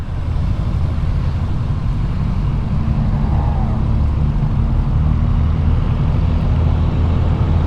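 Kawasaki Z650 motorcycle on the move, a steady, dense low engine drone with broad road and wind rumble that stays loud and unbroken throughout, with no voices.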